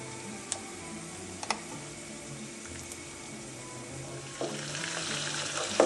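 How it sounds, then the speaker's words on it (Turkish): Steady soft sizzling of chicken pieces frying in butter in a pan, with a few sharp clicks and taps and the sizzle rising louder toward the end. "Parçalara ayırdığımız tavukları kızartmak üzere tavaya bırakıyoruz."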